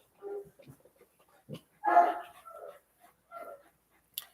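A dog barks a few times at a distance, with scattered yips and a whimpering note between short, sharp barks, heard in a quiet outdoor setting with pauses between each sound.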